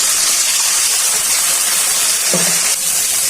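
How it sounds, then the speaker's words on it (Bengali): Water splashes into a pan of fried chopped onion and spices, setting off a loud, steady hiss and sizzle with a brief pouring gush partway through. "হালকা একটু জল দেওয়া দিন, নাহলে মশলাটা পুড়ে যাবে"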